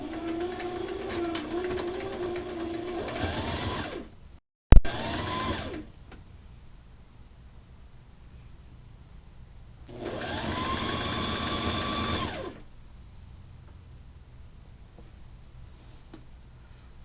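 A sewing machine stitching a nightshirt whirs steadily in two close runs of several seconds each, with a sharp click between them and quiet pauses after.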